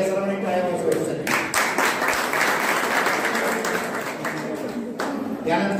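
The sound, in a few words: audience applause at a degree ceremony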